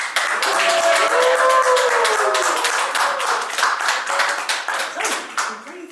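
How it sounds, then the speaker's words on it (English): Wedding guests clap during a marriage ceremony, a short round of applause from a small gathering that swells and fades over several seconds, with voices murmuring beneath and a few distinct hand claps near the end. "I think they deserve a little round of applause"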